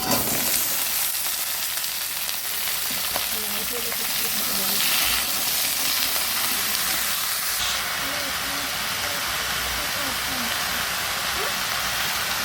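Vegetables tipped into a hot pan fry with a steady, dense sizzle and hiss that runs the whole time, close and fairly loud, with faint low clatter of the pan underneath.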